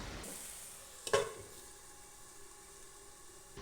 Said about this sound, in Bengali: এবার ফ্লেমটা কমিয়ে ঢাকা দিয়ে মশলাটা ভালো করে আমি কষিয়ে নেব।